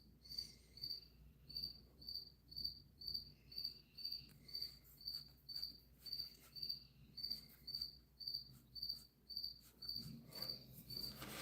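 A single hidden cricket chirps in a steady, even rhythm of short pulses, fairly faint and on its own in a quiet room, without any voices.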